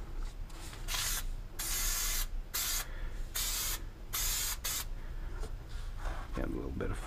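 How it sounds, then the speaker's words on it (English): An aerosol can of spray adhesive hisses in about half a dozen sharp bursts of varying length while upholstering a tractor cab interior with foam, close to the microphone. "You do end up need to have some overspray when you use this adhesive."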